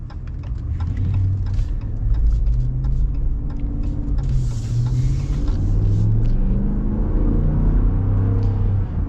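A Ram pickup's Hemi V8 gives a deep, close engine rumble with low throbbing pulses that rise and fall as it revs gently, continuous for several seconds with no talking.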